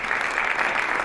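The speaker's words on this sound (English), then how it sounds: "So I'd like to give a big shout out and applause for Ed Siemens and his staff from the Northeast Astronomical Forum." Audience at an astronomy forum applauds for an organiser and his staff, a brief dense wash of many hands clapping, steady and loud without speech.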